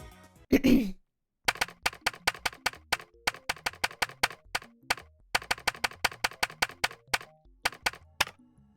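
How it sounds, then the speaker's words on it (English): Keys on an X68000 computer keyboard in Steins;Gate are typed in a steady run of crisp, close clicks after a brief muffled sound, with short pauses between bursts. "I finished typing on the X68000's keyboard"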